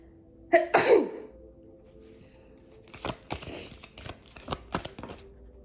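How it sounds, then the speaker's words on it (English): A single loud, close sneeze bursts out, then quieter sharp snaps and shuffling noises follow. "Now I'm going to sneeze."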